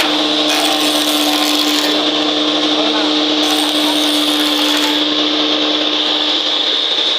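A solar-powered woodworking saw machine runs with a steady, loud, continuous whine and hum that fills the whole stretch without a break, while people talk over it.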